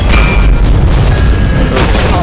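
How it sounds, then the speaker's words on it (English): Grenade blasts in a shooter video game hit hard and loud, with heavy booming bursts filling the whole clip and rumbling low. "Fucking grenades!"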